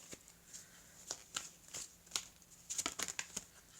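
Tarot cards shuffled and handled close up at a quiet table, soft riffling bursts and sharp flicks arriving unevenly, then a denser quick run of snaps near the end, with no talking.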